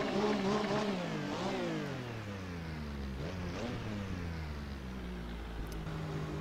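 A Porsche 962 race car engine in Assetto Corsa, heard from outside, winds up hard at the start, drops as the revs fall, surges again briefly, then settles into a steady, throaty drone, loud and close.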